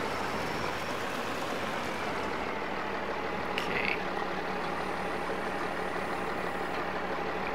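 A truck engine in Farming Simulator 22 runs with a steady, low, droning rumble and a brief hiss partway through.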